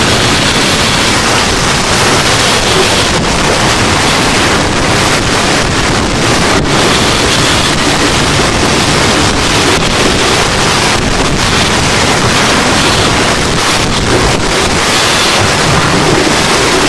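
Ocean waves and gusting wind at sea on a sailing catamaran during a solo Atlantic crossing, a loud, constant rush of water and wind buffeting the microphone, with no voices.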